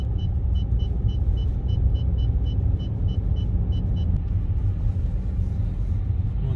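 A car brakes and creeps slowly along a snowy road, heard from inside as a continuous low rumble of engine and tires. A repeated high beeping chime sounds through the first part.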